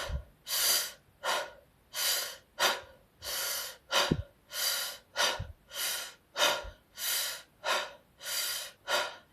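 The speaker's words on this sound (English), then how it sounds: "breathe in through your mouth like this, and then hakiwaho, exhale and breathe out" Deep breaths drawn in through the mouth and pushed out again repeat in a slow, even rhythm, about a dozen loud close breath cycles with no talking.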